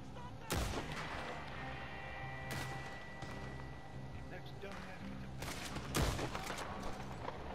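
Loud gunshots in Red Dead Online, a few spaced cracks with echoing tails, heard alongside a player's speech and background game ambience.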